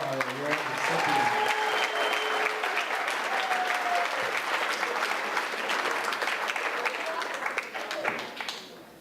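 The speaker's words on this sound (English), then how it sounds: "Let's give one more round of applause to all our award recipients." A graduation ceremony audience gives sustained applause, dense clapping that fills the room evenly for about eight seconds before thinning out at the end.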